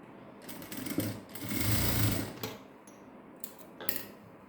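A sewing machine stitches a folded hem on a cotton saree blouse, its motor whirring steadily in a loud central burst. Shorter, quieter runs of stitching come before and after it, with no talking.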